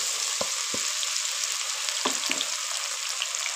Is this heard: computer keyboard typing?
no